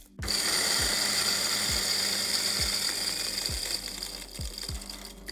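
A Latina LT-600N coffee grinder grinds beans at a fine setting of 1.5, giving a loud, steady mechanical whir with a repeating ratchet-like clatter, close and continuous for several seconds with no talking.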